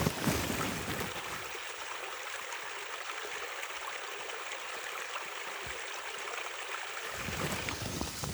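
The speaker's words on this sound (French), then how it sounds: "Et là donc il y a la petite rivière. Je sais pas si vous entendez le clapotis" A small river stream laps and trickles nearby, a steady soft wash of water sound that is fairly quiet and continuous, with no voices.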